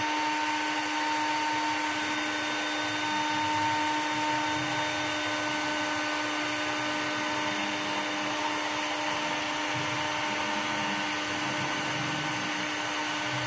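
A hot air gun blows continuously, a steady whooshing fan roar with a faint whine that holds evenly the whole time.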